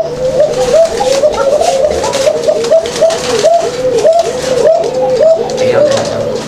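Fancy pigeons at a farm coo in repeated, rhythmic bursts, close and loud, with several birds overlapping. Someone talks over the calls at times.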